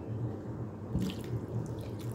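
Tap water running steadily into a cooking pot that will hold potatoes for aloo ki bhaji, a continuous close splashing fill in a home kitchen, with a brief louder gush partway through.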